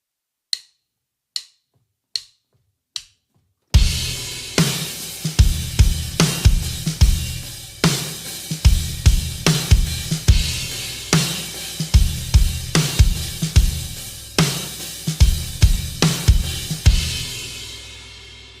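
Four sharp count-in clicks, then a full drum kit kicks in with steady kick, snare and hi-hat grooving at a lively, even tempo.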